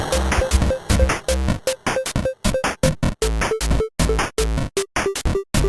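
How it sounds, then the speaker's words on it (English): Old self-made arcade video game soundtrack with a loud, choppy electronic beat: short bursts of synth tones and heavy bass hits stop and start in a fast, stuttering rhythm, with no voices. "this is an old soundtrack I made for an arcade game."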